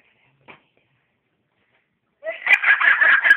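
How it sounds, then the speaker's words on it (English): A chicken gives a short run of clucks, clear and close, after one faint tap in near silence. "That's my chicken."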